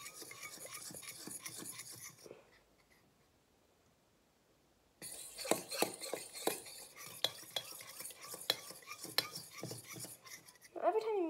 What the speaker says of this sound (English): take my fork and I'm just gonna mix in the chocolate